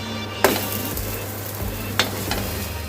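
Rice flour pudla fries in oil in a pan with a steady, close sizzle, broken by two brief louder scrapes as the pancake is turned.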